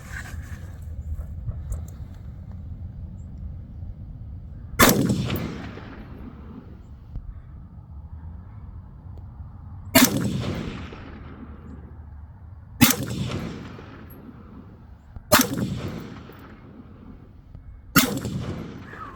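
Five spaced rifle shots from a BCM RECCE14 firing 55-grain PPU full metal jacket ammunition during accuracy testing, each a heavy close boom with a decaying echo, over a steady outdoor rumble and no talking.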